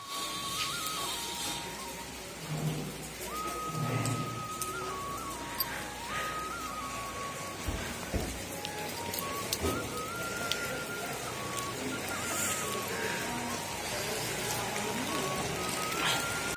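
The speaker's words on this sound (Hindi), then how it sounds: "आज की बारिश बहुत तेज है" Steady rain hisses throughout with scattered drops tapping nearby, fairly faint, and a few brief tonal sounds over it.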